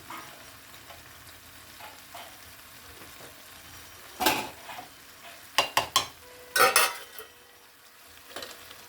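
Carrot halwa is stirred in ghee in a pan, with a few soft scrapes followed by sharp clusters of spoon-on-pot clatter and a quiet sizzle between them.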